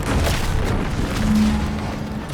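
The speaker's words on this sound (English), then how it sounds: "Was that an explosion?" Explosion in the video game The Outer Worlds 2, a deep rumbling boom that rolls on for a couple of seconds, with a sustained low hum beneath and no talk.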